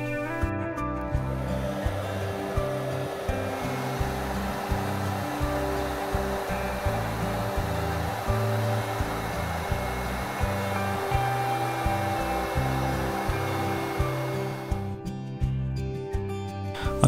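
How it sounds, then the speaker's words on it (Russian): A hair dryer heating a glued panel inside a phone blows with a continuous whirring hum, loud and close, then cuts off near the end. "Она также приклеена, поэтому снова используем фен."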